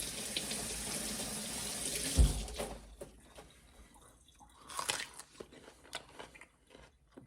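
Kohlrabi is rinsed under a running kitchen tap, a close rush of water for about two seconds that cuts off, followed by soft drips, handling noises and crisp crunching bites.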